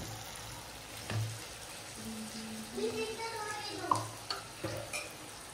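Handvo batter hits hot oil in a pan and sizzles faintly, with soft stirring scrapes and a few sharp clinks over a low background hiss, while someone speaks quietly nearby.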